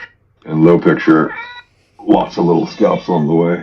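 A pet cat meows loudly and close, a string of drawn-out, wavering meows in two bursts with a short pause between, while a person talks nearby.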